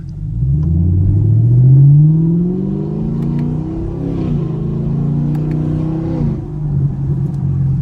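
A Chevrolet Camaro SS engine revs loud and close, with rising pitch sweeps as it climbs through gears and drops between shifts, plus sharp exhaust pops scattered over the droning exhaust while driving in the rain.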